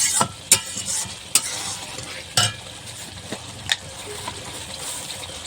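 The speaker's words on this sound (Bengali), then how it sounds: "একটুখানি গরম মশলা দিলাম গরম মশলা দিয়ে একটুখানি নাড়া দিয়ে এখন নামিয়ে দেব" Spoon stirring banana flower curry in a pan right after garam masala is added, with a steady low sizzle broken by several sharp scraping clatters, close and clear with no talking.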